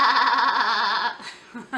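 A sheep gives one loud, close bleat, with a quavering tone that lasts about a second before it cuts off into quiet.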